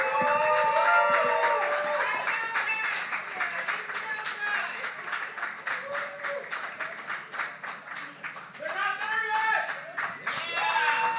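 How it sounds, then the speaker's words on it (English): An audience at a poetry slam keeps up sustained, dense applause with clapping that pulses and swells. Cheers and a few voices come through, and the clapping grows louder again toward the end. "Keep the applause going."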